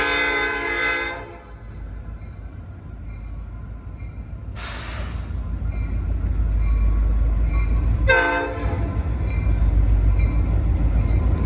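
A short train rumbles past with a steady low roar, a horn sounding at the start and two brief bursts of hiss or horn along the way.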